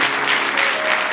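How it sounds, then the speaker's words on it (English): A church congregation claps together during a Sunday service, dense steady applause filling the whole moment at close range with no break. "Somebody clap."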